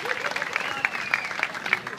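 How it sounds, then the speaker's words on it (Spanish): Audience applause and cheering during a Cancún queens' runway pageant, a moderate patter of clapping mixed with crowd voices and a few whoops, fairly close and brief. "¡Fuerte los aplausos!"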